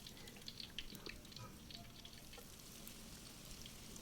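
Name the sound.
tempeh frying in hot oil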